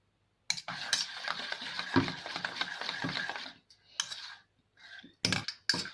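Oil and Milkmaid condensed milk stirred together in a bowl, quick scraping and clinking of a utensil against the bowl in bursts with short pauses, close and fairly faint.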